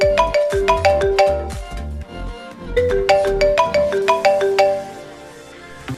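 An Apple iPhone ringtone plays loud and clear: a bright, bell-like marimba melody repeating its rising pattern twice, alone with no voices.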